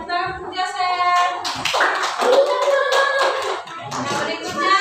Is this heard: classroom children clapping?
yes